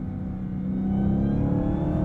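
A supercharged Dodge Challenger SRT Jailbreak engine revving hard under load as the tires spin, a rising mechanical roar with supercharger whine, close and loud for about two seconds.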